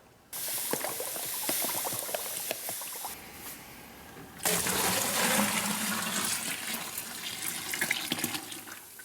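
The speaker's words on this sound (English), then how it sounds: "I've got to add water to it because there's not enough water in the strawberry pulp" Water pours steadily into strawberry pulp for homemade strawberry wine, a continuous splashing rush that swells louder partway through, with no talking.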